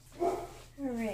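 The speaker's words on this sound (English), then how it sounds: "I think she's barking at the garbage trucks." A dog barks at passing garbage trucks on pickup day, giving two short bursts of barking and yipping close by, with a brief pause between them.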